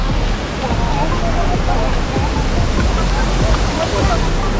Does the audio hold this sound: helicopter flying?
no